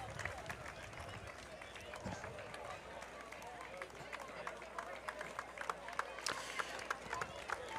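Crowd of spectators at a 2021 Fourth of July parade in Waupaca, Wisconsin, clapping in a scattered patter with sharp claps and a murmur of voices, moderately distant and fairly soft.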